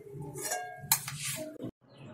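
A cooking pot of beetroot halwa comes off the stove with a few close metallic clinks and scrapes, one sharp clank, and a brief clatter before the sound stops abruptly.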